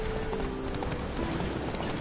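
Horse galloping in The Witcher 3 video game, a steady rapid clip-clop of hooves under a dense, loud wash of game ambience and music.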